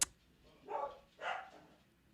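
Dogs barking indoors behind a closed door, two muffled barks spaced about half a second apart after a brief sharp click, faint and somewhat distant.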